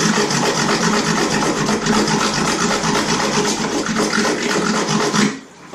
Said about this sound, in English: You get the back of a blade or anything flat edge, and that stuff will scrape right off.